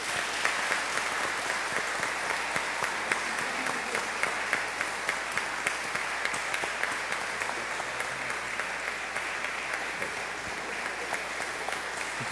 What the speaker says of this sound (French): On pourrait les applaudir.